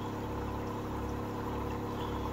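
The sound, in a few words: water draining into a 5-gallon bucket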